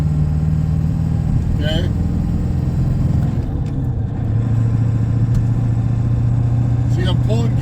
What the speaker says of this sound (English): See, I'm pulling gears, I'm revving this thing out a bit.